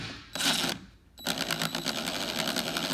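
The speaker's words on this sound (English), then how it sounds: "you put your drill or your impact or whatever you're using on there," Power drill whirring as it spins a screw in a stripped hole in a door casing, two short bursts of motor drive with a brief pause between, the second running steadily to the end.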